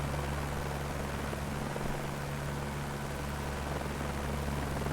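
A helicopter flies in Microsoft Flight Simulator 2024, a steady, loud rotor and engine drone heard from the cockpit, unbroken and without speech.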